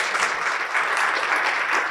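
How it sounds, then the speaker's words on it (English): A conference audience gives a round of applause to a speaker, steady dense clapping from a crowd filling the whole brief moment, fairly close and without talking. "let's give him a round of applause"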